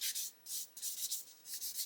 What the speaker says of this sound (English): Just get in there at the end of the sanding stick and remove that